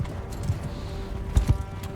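Soft, uneven hoofbeats of a horse in the video game Mount & Blade II: Bannerlord over a steady low background hum, a few thuds clustered near the end.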